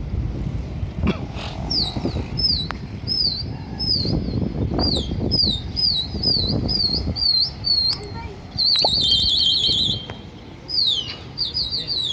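Pigeons flutter and chirp close by as they take flight, with repeated sharp tweeting calls over a busy background of wing flapping, rustling and movement.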